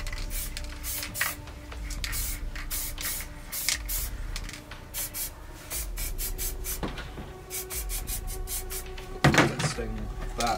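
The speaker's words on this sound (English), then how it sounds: "so we're going to spray a little bit of green in, just like that" Green spray paint hissing onto a rifle in short repeated bursts, close and fairly quiet, with small handling clatter between sprays.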